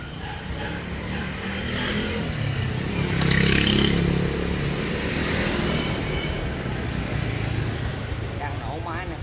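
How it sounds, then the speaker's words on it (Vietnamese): A 2007 Honda Future Neo motorcycle in original condition, its engine running close by with a steady idle that swells briefly into a louder rev before settling, while someone talks over it. "Đang nổ máy nè."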